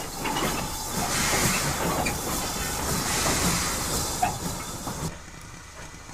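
A Great Western 1400 tank engine pulls an auto coach away from a junction toward Marlow, giving a steady hiss of steam over rumbling, clattering wheels, then a quieter tail as it draws off.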